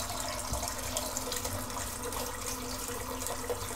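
Tap water runs steadily into a bathroom sink being rinsed of thick shaving-cream lather after a head shave, a continuous close splashing wash with no voices.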